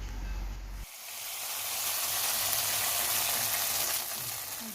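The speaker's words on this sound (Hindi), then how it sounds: "अब हम इस पे लगाएंगे तड़का" Hot oil with golden fried onions is poured over beef haleem, setting off a sudden loud hiss that becomes a steady, close sizzle and slowly fades over a few seconds, with no talking.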